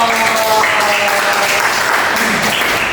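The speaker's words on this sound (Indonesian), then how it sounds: "Oke, tepuk tangan dulu. Give applause." A classroom group claps during an English lesson, a short dense patter of applause at close range with a faint voice or tone underneath.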